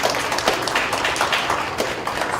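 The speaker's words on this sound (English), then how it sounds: "Give him a round of applause as he's coming up." Audience at a Southampton County Public Schools board meeting clapping in a steady patter of applause throughout, moderately loud and fairly close, with no talking.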